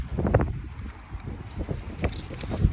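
Wind gusts buffet the microphone outdoors, producing low, rumbling bursts that rise and fall irregularly, with brief thumps of noise.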